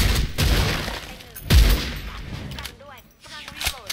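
Dragunov SVD Red Dragon rifle firing in the game Special Force 2, loud sharp gunshots in a rapid continuous string with two heavier blasts standing out, no talking over it.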